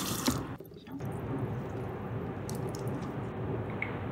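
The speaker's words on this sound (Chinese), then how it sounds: "下边我们用清水把黄瓜洗一洗，也就是把它的盐分洗出去" Salted cucumber being rinsed in clean water, a soft steady wash of running tap water with light splashing and squishing, close and continuous with no talking.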